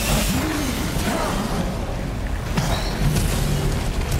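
Pipe bomb explosion in the video game Resident Evil Village: a loud, sustained boom with rumbling debris that fills the whole moment, with faint voices under it.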